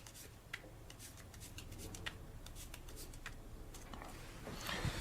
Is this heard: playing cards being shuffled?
yes